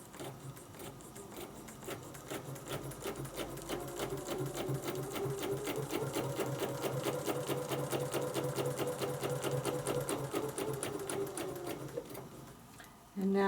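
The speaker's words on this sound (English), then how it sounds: "I'm going to hold my threads tight and start stitching my circle." A sewing machine stitches a circle guided by a Westalee template, its needle hammering in a steady rapid rhythm that holds throughout before stopping abruptly near the end.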